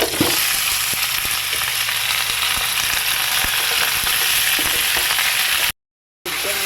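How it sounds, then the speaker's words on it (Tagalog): Chicken pieces frying in a pan for pininyahang manok, already sautéed with onion, tomato and garlic, give a steady, dense sizzle that runs continuously near the mic, breaking off briefly near the end. "Medyo na-fry na ang ating chicken"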